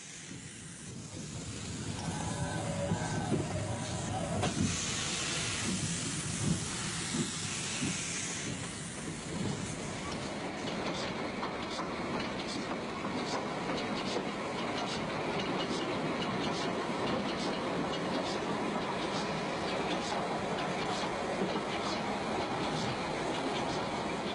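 An aging 0-6-0 steam tank locomotive shunts at a metre-gauge station on Portugal's Corgo line, rumbling steadily with hissing steam and clanking movement throughout, loud and continuous.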